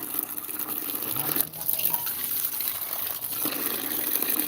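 Water gushes steadily into vessels filled for farm animals, a continuous close pour with a faint splashing trickle and a brief dip partway through.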